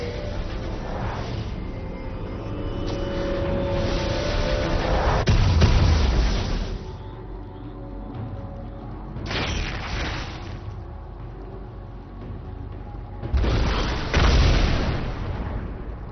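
A turret being destroyed in League of Legends, heard as loud, booming explosive bursts that swell and fade in three separate surges, with no talking.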